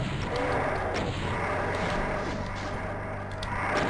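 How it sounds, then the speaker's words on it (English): Rocket launcher fire in the video game Doom II: a dense, continuous roar of booming explosions and rumbling blasts fills the whole stretch, loud and close. "Let's go around and shoot some rockets at them."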